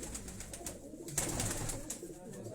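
High-flying pigeons coo softly nearby, repeated low throaty rolling calls over a faint outdoor background.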